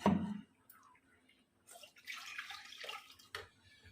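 Green mango juice blended with cold water and a few black grapes drips through a strainer in a close, gentle trickle, with brief pauses and a couple of louder splashes.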